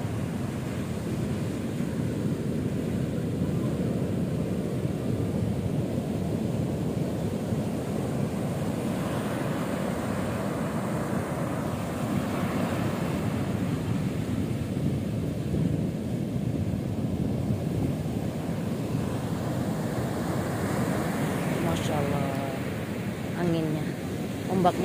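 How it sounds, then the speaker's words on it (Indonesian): Big ocean waves roll onto an undeveloped beach at Cemara Cipatujah, Tasikmalaya, a steady broad roar of surf and wind throughout, with people talking faintly underneath. "Ombaknya besar."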